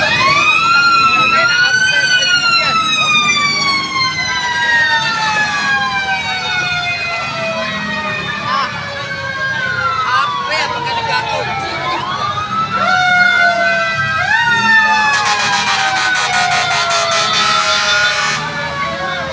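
Fire truck sirens wail at a large fire near Jacinto Street in Aroma village, repeated rising and falling tones sweeping loudly over a busy street with a blaring horn burst, while people shout and talk throughout.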